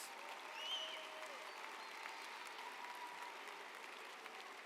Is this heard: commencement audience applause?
yes